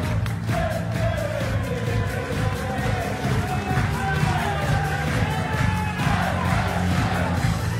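A darts crowd at the PDC World Grand Prix roaring after Andy Hamilton's win over Mark Webster: loud, dense cheering and chanting from a packed arena that carries on without a break, with the commentator's voice running over it.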